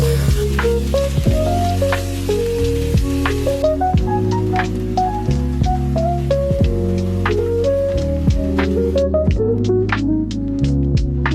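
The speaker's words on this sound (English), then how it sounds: "then saute it with green onions" Chicken marinated in five-spice powder, soy sauce, brown sugar and minced garlic sauteing with green onions in a pan, giving a steady loud sizzle. Rhythmic music plays underneath.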